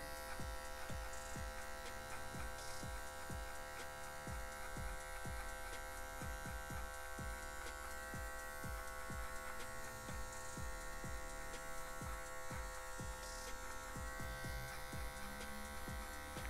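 Electric hair clipper set to the lowest zero setting buzzes steadily and close throughout a haircut, a constant motor hum with faint ticks of blades through hair, no talk.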